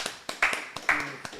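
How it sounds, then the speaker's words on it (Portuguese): A small audience gives Thomas a brief burst of sharp, close handclaps in an uneven rhythm, with voices calling out between the claps. "Palmas para o Thomas."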